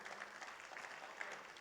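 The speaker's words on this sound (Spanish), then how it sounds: "Le dan un fuerte aplauso al Señor" Church congregation applauding during a Spanish-language Bible study service, a brief, steady, dense wash of clapping heard at moderate distance without pauses.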